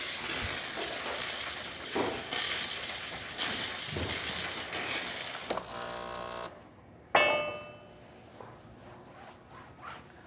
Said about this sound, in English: excellent steam coming out from the one.